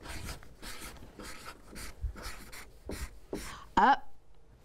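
A greeting being handwritten with pen on paper, soft scratchy strokes in short bursts close by, then a brief sharp squeak near the end, quiet and alone.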